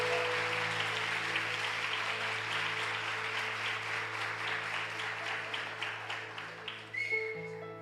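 A church congregation applauds during a sermon, a steady wash of clapping that holds evenly, then thins into scattered claps before tapering off near the end.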